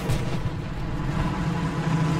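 Tank gun firing in a World War II battle game at Bayeux, heard as a steady, dense rumble of heavy booms and engine noise with sustained low-end energy throughout, loud and continuous with no talk over it.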